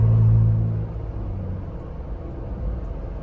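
Inside a moving Ford Bronco Raptor on Milestar Patagonia MT mud-terrain tires, steady low road rumble and hum blend with wind noise after the engine drops off throttle, no talking.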